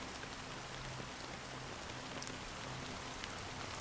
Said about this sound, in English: the old man's gaze remained fixed on the distance amidst the fine drizzle of the black rain